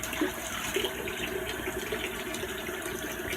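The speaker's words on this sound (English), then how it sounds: "Give me a little water in the sink and I'll be ready to go." Water runs steadily into a bathroom sink in a steady broadband wash, close and continuous throughout with no talking.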